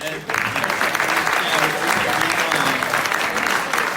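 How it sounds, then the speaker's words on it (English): A crowd bursts into steady, loud applause after a brief quiet start, the clapping sustained and dense until the end. "Another big applause."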